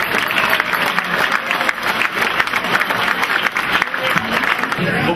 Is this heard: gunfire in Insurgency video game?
no